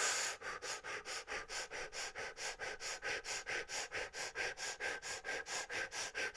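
Rapid, forceful fire breathing, a quick, even run of roughly two dozen sharp nasal breaths, each a clipped airy burst, close and loud with no talking.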